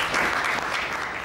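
An audience applauds in a French theatre setting, producing a dense, steady wash of clapping that stays even and fairly loud throughout the short stretch.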